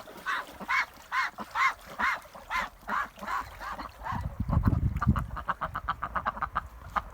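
Rouen ducks quack in a steady run of calls, then a low rumble joins as faster, clipped quacks and honks from the drakes crowd together nearby.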